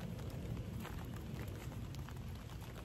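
Heavy rain pouring steadily, a dense, even wash of drumming noise with a deep low rumble underneath, constant and close with no voices.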